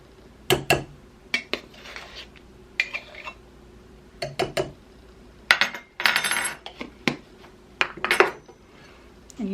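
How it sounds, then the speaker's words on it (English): Flour and baking powder mixed by hand in a bowl, heard as a series of irregular scraping and clinking strokes of a utensil against the bowl, close and fairly loud, with short pauses between bursts and no talking. "you just want to mix this together until it's combined"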